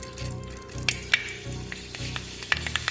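Fenugreek seeds dropped into hot oil in a clay cooking pot for a prawn theeyal curry, a steady close sizzle with crackling pops scattered over it.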